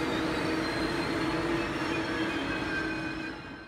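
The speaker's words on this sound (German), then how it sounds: "Hier zu sehen ist das Original des Triebzugs 154 bei der Einfahrt in Frankfurt am Main Hauptbahnhof." An ICE 1 high-speed train, set 154, rolls into Frankfurt am Main main station with a loud, steady rumble and thin wheel squeals that fade slightly as it slows.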